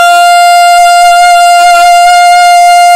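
An alto saxophone sustains a single high D, a bright, steady, loud tone held for about three seconds with a faint breathy flutter midway.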